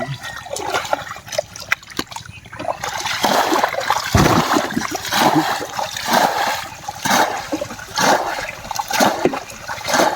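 Water gushes and splashes continuously as a fish pond or enclosure drains away, a loud steady rush with pulsing surges and trickles, with brief human voices in the background.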